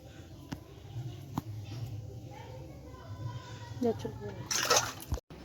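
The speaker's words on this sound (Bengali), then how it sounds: "এই দেখুন মাছগুলো ধুয়ে নিচ্ছি মাছগুলো ধুয়ে নেব ভালো করে মাছগুলো ধুয়ে নিচ্ছি" Hilsa fish being rinsed in water by hand, with sloshing and splashing that builds to a brief louder splatter near the end, heard close up over a steady background hum.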